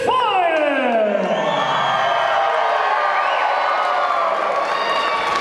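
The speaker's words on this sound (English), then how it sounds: "Listen to that ovation they get." A wrestling crowd roars its approval for a tag team, loud whoops and sliding cheers rising over a sustained, dense wall of crowd noise.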